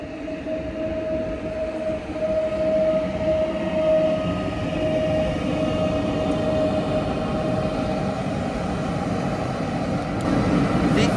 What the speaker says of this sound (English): This train goes from Warszawa Wschodnia to Łódź Fabryczna.